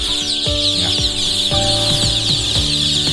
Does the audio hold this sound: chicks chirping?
yes